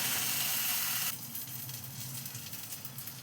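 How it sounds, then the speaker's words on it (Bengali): Rice frying and being stirred in a pan with garlic for a Gobindobhog rice and pointed gourd dish, a loud steady sizzle that drops suddenly to a softer crackling hiss with scraping stirs. "এইবার এটাকে চালটাকে এর সাথে ভালো করে নাড়িয়ে চাড়িয়ে ভেজে নেব।"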